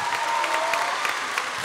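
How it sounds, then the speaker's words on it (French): Applause from an audience at the final of a children's singing competition in a concert hall, a steady dense clapping that runs the whole time with a faint sustained tone behind it, no voices over it. "Et on peut l'applaudir parce que ça encourage vachement."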